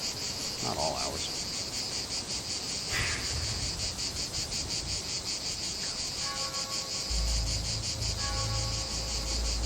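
Continuous night chorus of cicadas in the countryside, a dense rhythmic buzzing that holds steady from start to finish, with a few faint thumps and a low hum joining toward the end.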